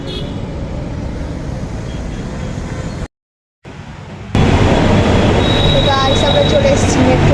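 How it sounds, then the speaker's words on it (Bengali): A metro train rumbles loudly at a metro station, with a brief silent gap before the roar swells louder and faint wheel squeals rise above it; indistinct voices blend into the background. "চলে এসেছি মেট্রো স্টেশনে"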